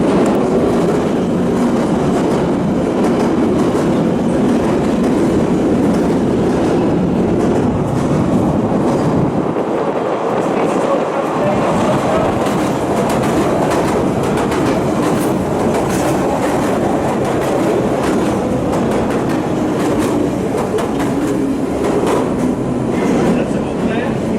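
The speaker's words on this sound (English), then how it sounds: "Trains are coming, what east or west?" A London Underground train rumbles past through disused Down Street station with steady clattering wheels and a dense, loud roar that dips briefly midway, then carries on.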